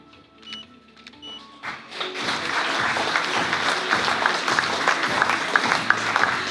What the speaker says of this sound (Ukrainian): давайте будемо оплесками зустрічати на цій сцені наших наступних лауреатів